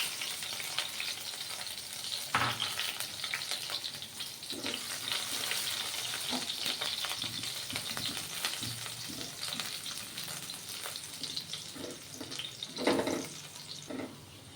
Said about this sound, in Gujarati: તેલ ગરમ થઈ ગયું છે તો હવે વઘાર કરીશું તેના માટે સૌપ્રથમ કેપ્સિકમ એડ કરશું